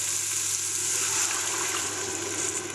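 Shellfish stock, about a litre, pours steadily into a pot for seafood bisque, a continuous close gushing splash that stays even throughout with no talk.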